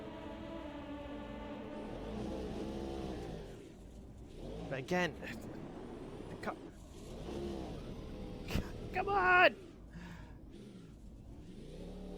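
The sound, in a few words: race car engine in Automobilista 2 video game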